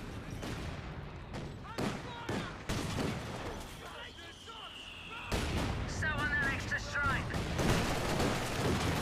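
Anti-tank gun fire in the Company of Heroes 2 strategy game, heavy booming shots over a dense wartime battle soundscape with other gunfire, several loud blasts spread across the stretch.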